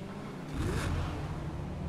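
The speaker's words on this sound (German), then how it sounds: "man hört das Brüllen. Es ist auf jeden Fall ein, ich will sagen, V10-Motor" A V10 engine of a Pegassi Reaper in the video game GTA 5 roars up briefly, a deep revving swell that rises then settles into a steady low rumble.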